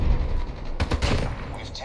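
Burst of gunfire in the mobile shooter COD Mobile, a quick cluster of sharp shots arriving about midway through alongside ongoing game noise and a low rumble.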